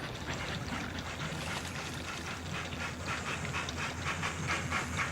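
A cartoon Stephenson steam locomotive chugs along its rails with a steady hissing, rhythmic puffing, fairly quiet and continuous, with no voices.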